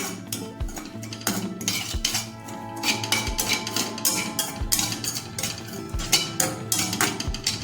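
Roasted semolina and coconut are being mixed in a pan for paan modak, with a rapid run of metal spoon scrapes and clinks against the pan, close and busy throughout.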